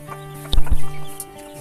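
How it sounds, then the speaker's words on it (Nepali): Farm chickens, a rooster and a hen kept on a small farm, cluck in a short close burst over a steady low hum, with no talking. "यही हो भाले पोथी"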